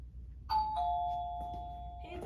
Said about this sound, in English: doorbell, Jaden. I'll try.